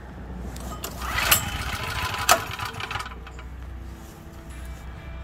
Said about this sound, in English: I'm gonna turn on the generator.